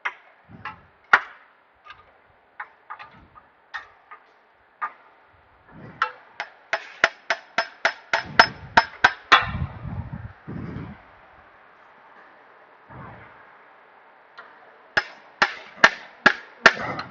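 A 39mm socket is driven in with hammer blows on a 1995 Honda Civic: sharp metallic knocks, first scattered, then a fast steady run of strikes, a pause, and a final quick burst, close and loud with a faint hum behind.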